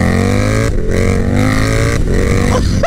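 KTM Super Duke 1290 R motorcycle engine running loud and close, a steady throbbing drone with rising pitch sweeps as it accelerates, broken by brief dips at gear changes.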